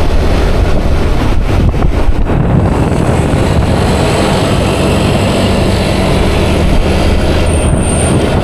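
Strong, steady wind buffets the microphone with a constant loud roar and rumble throughout, no voices heard.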